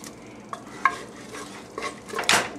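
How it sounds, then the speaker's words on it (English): A spoon stirring food in a dish on a stove over medium heat, with a few soft scrapes and clinks against the pan, plus a faint sizzle underneath. "You can stop stirring."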